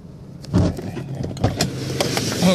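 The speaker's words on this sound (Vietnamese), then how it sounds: "Bấm được nút cốp luôn." With the engine running, a car's trunk unlatches by remote key: a clunk followed by a few mechanical clicks and thumps over a low engine hum, close by.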